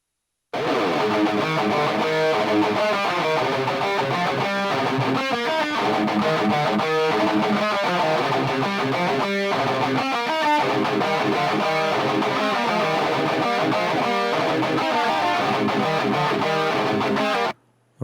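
Electric guitar heavily distorted through two overdrive pedals and a virtual amp plays a dense, continuous riff at steady loudness for the whole stretch, with no voices, ending abruptly.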